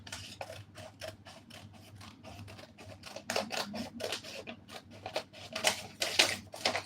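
Scissors cutting through a paper shirt pattern while shaping a curved collar stand, giving a steady run of close, crisp snipping strokes that grow louder toward the end, with no talking.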